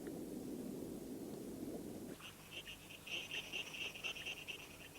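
Frogs and toads calling at a breeding site: a dense low chorus at first, then a sparse pattern of faint, repeated high chirping trills, quiet and distant.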